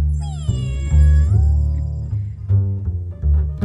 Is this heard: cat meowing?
yes